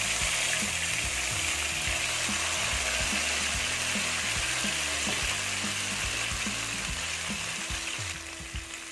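Fish frying Kerala style in a generous amount of coconut oil, a loud, dense, crackling sizzle running steadily throughout with rapid popping bursts, easing slightly at the very end, no voices.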